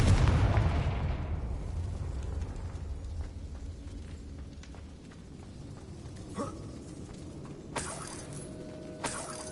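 A Confringo fire-blast spell from a Hogwarts wizarding video game bursts loudly at the start, its deep boom rolling and fading over several seconds, followed by a few smaller sharp cracks and pops later on.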